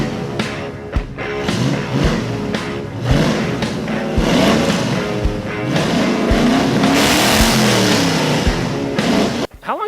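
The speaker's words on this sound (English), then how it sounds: "1977 Pontiac Trans Am." A 1977 Pontiac Trans Am's V8 rumbles loudly up close at a car club motoring festival, revving repeatedly in rising and falling surges with sharp throttle blips, alongside background voices of the crowd.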